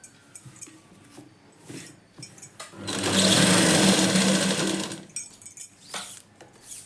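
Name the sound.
sewing machine stitching a chudidar dress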